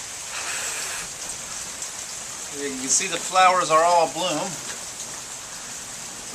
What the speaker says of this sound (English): with the rain that's coming down